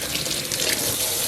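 Tap water runs steadily into a sink while hair braids are rinsed, a close, constant splashing hiss with no talk.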